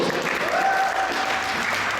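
An audience at a lecture at ISKCON Toronto claps together, a brief, dense burst of applause that stays steady and fairly loud.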